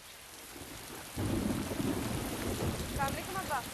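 A low, rumbling roll of thunder sets in over steady rain, with a faint background voice near the end.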